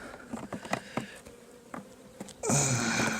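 Honeybees buzz close around hive frames after the honey harvest, a soft steady hum broken by light knocks and taps of frames being handled, then swelling louder near the end.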